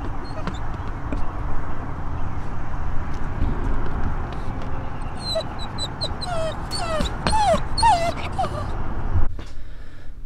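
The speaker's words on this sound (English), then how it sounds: "The puppy was adorable and all" A young puppy whimpers and yips in high, wavering cries that grow more frequent toward the end, over a steady low background rumble.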